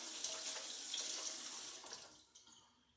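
Water splashes and runs continuously as a wine airlock and bung are rinsed clean of sanitizer, a soft, close hiss that fades toward the end.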